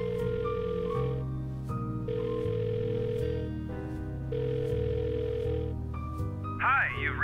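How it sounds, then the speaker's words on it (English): A telephone dial tone and ring tones sound in a point-and-click adventure video game as a call is placed, with steady sustained tones broken by short gaps, followed by a brief warbling electronic signal at the end. "Dann probiere ich mal, Jeremy anzurufen."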